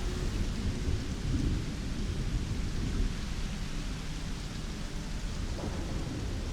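Steady rain with rolling thunder in the sci-fi game Starfield, a dense, continuous wash of downpour with low rumbles swelling underneath, loud and unbroken throughout.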